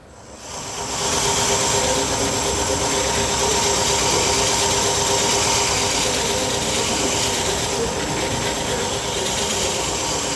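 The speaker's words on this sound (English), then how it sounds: "Now start the lathe." Wood lathe spinning up to speed while turning a segmented wooden bowl being finished, a steady broadband whirring hiss with a constant motor hum, starting quietly then holding loud and even throughout with no talking.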